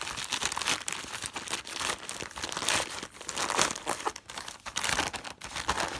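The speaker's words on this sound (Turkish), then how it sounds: "Direkt yırtalım daha sonrasında." A paper parcel of books is torn open by hand, with continuous loud crinkling and ripping of wrapping close up and no speech.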